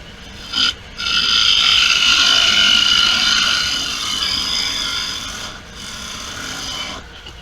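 A wood lathe spinning at 1650 RPM on its lowest belt setting, a loud close steady rasping hum that holds for several seconds, briefly interrupted near the start and dipping slightly toward the end.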